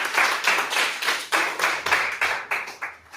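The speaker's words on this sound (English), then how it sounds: "A great round of applause." Rhythmic clapping from an audience at a live show, about ten distinct sharp bursts in a steady beat, close and clear with no talk over it.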